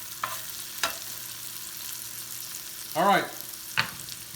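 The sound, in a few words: stirring cheesesteak meat to melt the cheese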